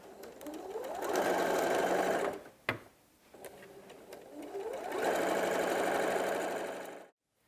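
A sewing machine stitches a seam on a hessian bag in two fast, whirring runs of rapid needle strokes, close by, with a short clunk and pause between bursts before it stops.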